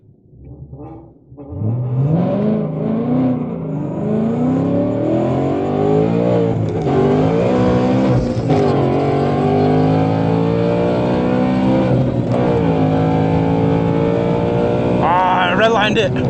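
A Whipple supercharged Ford Mustang S650 launches at an airstrip half-mile race, its engine roaring loud and close, climbing through rising revs with brief gear-change dips, while voices talk over it.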